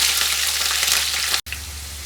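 Green chillies spit and crackle in hot oil with mustard seeds, a dense, steady sizzle close by with a brief cutoff near the end before it resumes, no voices.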